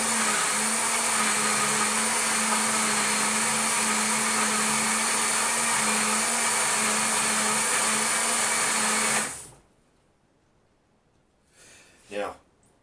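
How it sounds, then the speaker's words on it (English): A blender whirs loudly and steadily for about nine seconds while mixing milk, banana, eggs and ice cream into a shake, then cuts off abruptly, leaving quiet followed by brief clinking sounds. "I'm going to put it back on the blender"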